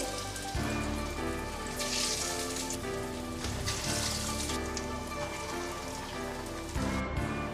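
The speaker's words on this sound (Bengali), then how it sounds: "বাকি চপগুলোও আমি কড়াইয়ের মাঝে দিয়ে ভেজে নেব। দিয়ে দিচ্ছি তেলে" Egg and lentil pakora chops deep frying in hot oil in a kadai, a loud dense crackling sizzle that holds steady throughout, close by with no talk.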